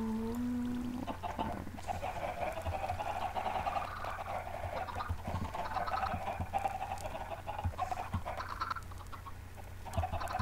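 Chickens on a Minecraft chicken farm cluck steadily and close by, a continuous busy chatter of game fowl sounds with no talking.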